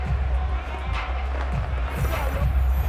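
A home stadium crowd in the Madden 22 football game on PS5, Detroit Lions hosting Green Bay Packers, gives off a steady low roar of cheering and murmur, with faint thumps underneath.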